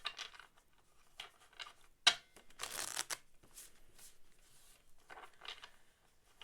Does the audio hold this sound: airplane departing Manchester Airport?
no